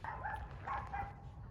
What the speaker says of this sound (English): Noisy little doggy.